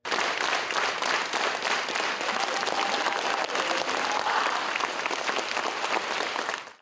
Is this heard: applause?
yes